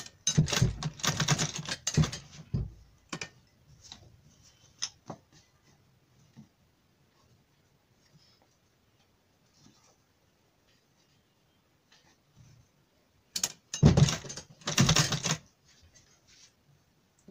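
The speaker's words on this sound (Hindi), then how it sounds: "अब हम इसको इस तरह से रखेंगे और सिलाई करेंगे।" Sewing machine stitching the neck of a kurti, giving two short bursts of rapid mechanical rattling, one at the start and one near the end, separated by a long near-silent stretch.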